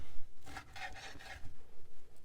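A knife cuts bass and bluegill fillets into chunks, giving several short close rasping strokes against a board in quick succession.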